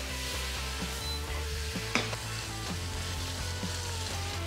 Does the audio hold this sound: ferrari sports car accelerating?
no